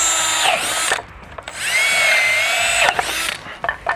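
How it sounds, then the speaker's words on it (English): A power drill with a 3/8 to 1/2 inch bit bores drain holes in a DIY fountain, whining in several bursts that rise and fall in pitch, with brief pauses between, loud and close without speech. "We're going to drill quite a few holes."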